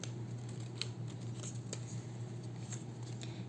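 Scissors snip paper for a junk journal page, giving a few quiet, crisp cuts at uneven intervals over a faint low hum.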